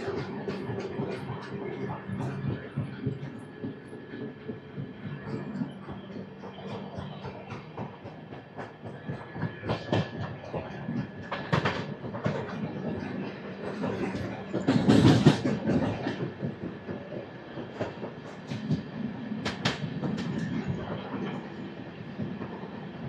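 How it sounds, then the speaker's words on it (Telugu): The Gowthami Superfast Express, train 12738 from Lingampalli to Kakinada Port, pulls out of Tadepalligudem station after a two-minute halt, heard from on board as a rumble with rhythmic clickety-clack. A louder burst of wheel and coupling noise peaks midway. "ఒక 2 మినిట్స్ హాల్ట్ తర్వాత తాడేపల్లిగూడెం నుంచి అయితే మన ట్రైన్ స్టార్ట్ అయిపోయింది."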